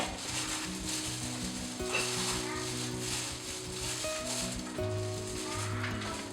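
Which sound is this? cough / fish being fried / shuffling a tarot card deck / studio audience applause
fish being fried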